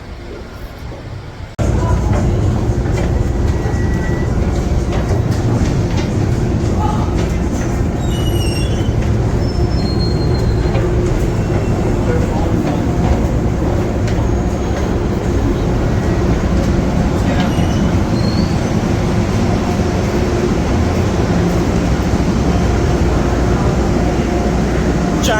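A train rumbles continuously through New York Penn Station, with wheels squealing and a steady heavy roll filling the space, and occasional high metallic screeches over the din.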